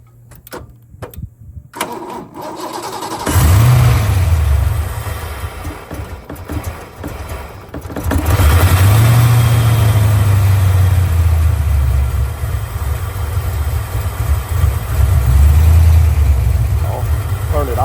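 A car engine cranks and catches after a few clicks when jump-started with a NOCO Boost Plus GB40, then idles loudly nearby, revving up twice, while a person speaks over it.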